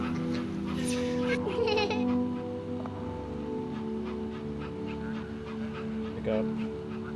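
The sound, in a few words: puppy whimpering and barking in video game That Dragon, Cancer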